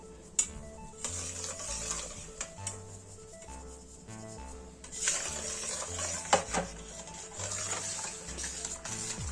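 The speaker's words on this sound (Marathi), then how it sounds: "आणि आपण जी पिठी केलेली आहे ही अशी थोडी थोडी थोडी थोडी टाकून फिरवत राहायचं" Rice flour is stirred into boiled water in a pan off the heat to make rice ukad, with soft rubbing and scraping strokes and occasional knocks against the pan over quiet background music.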